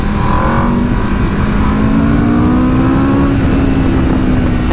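A 2022 Aprilia RSV4 sport motorcycle accelerating hard, its loud engine note climbing steadily in pitch over several seconds with wind rush, a continuous powerful roar and no speech.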